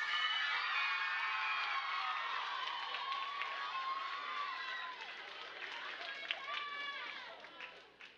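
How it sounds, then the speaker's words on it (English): An audience at a middle school talent show cheers and whoops in a lively, fairly distant wash of crowd noise that slowly fades, with voices talking over it. "please give a rousing applause to our very own Mr."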